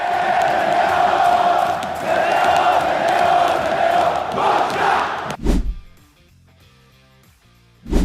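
Green Hell stadium crowd at Arena da Baixada in Paraná, a loud dense mass of chanting and cheering fans that fills the first five seconds, then cuts to near quiet with a couple of sharp bursts.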